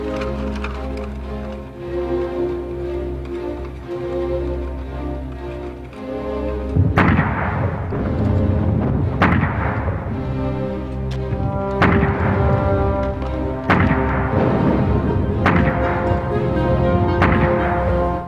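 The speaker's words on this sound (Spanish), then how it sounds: "Empezó a desplegar más cañones." Battle of Verdun artillery cannons fire in a series of heavy booms over a steady low rumbling backdrop, the blasts landing every couple of seconds through the second half, loud and reverberant.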